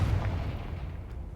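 Confringo blasting spell explosion in Hogwarts Legacy, a deep rumbling boom already ringing out and fading over about a second with no voices.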